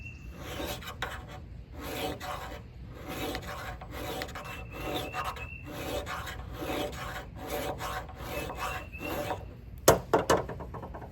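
A Mora Companion stainless knife is sharpened with repeated rasping strokes in a steady back-and-forth rhythm, close and moderately loud, then a few sharper clacks near the end. No one speaks.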